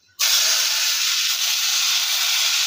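Tomatoes dropped into a hot pan of golden-brown onions for Tamil-style tomato chutney, a sudden loud steady sizzle that starts abruptly and holds strong and close throughout.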